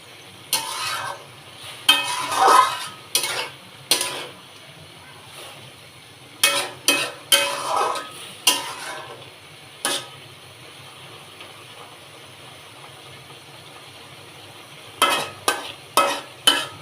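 Red amaranth greens stir-fried in a pan: a spatula scrapes and stirs in repeated bursts over a faint background sizzle, with a long quiet gap before the stirring resumes.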